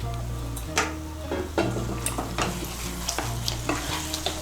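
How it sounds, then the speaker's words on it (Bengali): A spoon stirs fried paneer with a splash of water in a pan while making palak paneer, giving repeated scraping strokes over a light simmering sizzle, close and steady with no talk. "পনিরটাকে আর জলটাকে ভালো করে মিশিয়ে নেব।"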